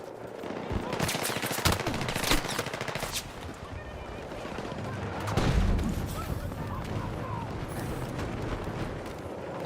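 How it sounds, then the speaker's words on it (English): Sustained automatic gunfire and distant explosions in the Battlefield 6 beta, a dense, loud battlefield din of rapid bursts with a heavier boom midway, running continuously throughout. "Where's that guy shooting at me?"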